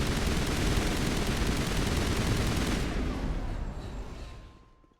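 Assault rifle gunfire in a video game fight against Geth on Feros, a dense, loud, sustained roar of rapid fire that holds steady and then tails off into a fading decay.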